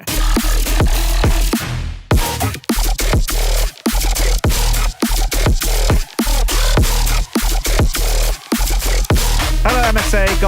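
Synthesized bass growl made from a processed voice, played without its ending growl: loud, dense, continuous rasping bass in choppy rhythmic bursts with sharp gaps, running alone for about ten seconds.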